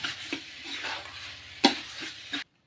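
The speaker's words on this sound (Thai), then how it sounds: "ผัดให้แห้งเลยนะครับ ขั้นตอนนี้ผัดใช้ ไฟกลางนะครับ" Minced pork stir-fried over medium heat with Southern Thai curry paste in a pan, a soft steady sizzle broken by a few scraping stirs and one sharper clink of the utensil against the pan, close up, ending abruptly.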